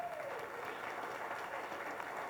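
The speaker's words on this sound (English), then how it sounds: "So let's give a giant round of applause to Deanna Armell." Audience applause fills a real estate panel session in Orlando, a dense, even wash of many hands clapping at moderate distance for a couple of seconds.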